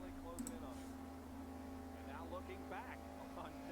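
Steady in-car engine drone from the NASCAR Thunder racing video game, a continuous low hum with harmonic tones throughout, with faint voices talking over it partway through.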